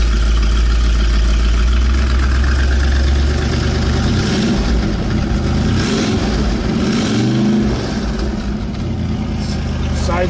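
Deep, loud rumble of a 1969 Chevrolet Corvette engine idling through its exhaust pipes, steady and throaty with slight fluctuations, heard close by.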